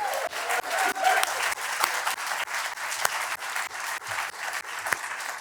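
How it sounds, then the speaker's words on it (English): An audience at a debate in Davos applauds the panelists, many hands clapping in a fairly close, steady patter with distinct individual claps standing out. "Give them a round of applause."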